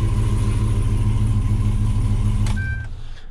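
A truck engine fitted with a Venom 250 exhaust idles loudly and steadily up close while still cold, a deep rumble that fades somewhat near the end as a brief higher tone appears.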